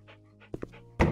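A puppy in the House Flipper video game pants in quick soft breaths, with a couple of sharp little puffs and a louder exhale at the end.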